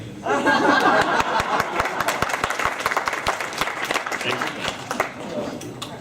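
At a convention's opening ceremonies, a crowd breaks into applause with scattered laughter, and sharp, separate claps stand out near the front as the clapping thins over several seconds, while people talk over it.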